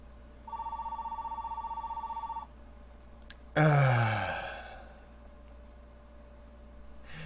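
A single electronic telephone ring in a room, a steady trilling burst of about two seconds, followed by a loud sigh and quiet room tone.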